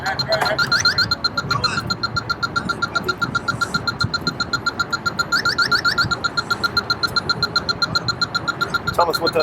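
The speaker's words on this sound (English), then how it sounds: "Tell us what that little noise is, that beeping noise." Air-conditioning diagnostic equipment gives off a rapid, regular series of high electronic beeps that carries on throughout, over a low mechanical hum in a workshop, with faint talk underneath.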